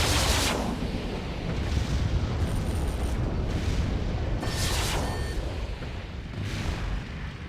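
Mech weapons fire in MechWarrior 3, heard as continuous heavy booming and rumbling blasts with repeated bright bursts of shots and high electronic tones layered over the barrage.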